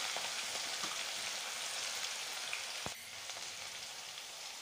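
Ginger, garlic and green chilli paste fries in ghee with cumin, mustard seeds and asafoetida, making a quiet, steady sizzle with scattered light crackles and one sharp tap.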